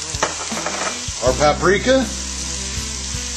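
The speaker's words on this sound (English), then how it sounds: "we're going to just brown this meat up" Meat browning in a pan with garlic powder, red pepper flakes, minced onions, paprika, salt and pepper, a steady close sizzle and crackle running throughout, with a person speaking briefly over it.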